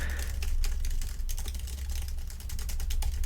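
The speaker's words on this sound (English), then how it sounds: "Let me actually try and type something here" Rapid, continuous key clicks from typing on a 2021 Apple Magic Keyboard, close and evenly busy, with a steady low hum underneath.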